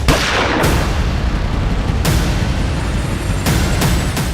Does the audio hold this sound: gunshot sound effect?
yes